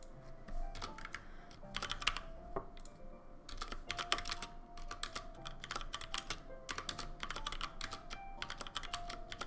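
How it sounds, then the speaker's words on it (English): Rapid clacking keystrokes on a computer keyboard come in irregular bursts and pauses, close and clear against a quiet background with no talk. "I hear you typing."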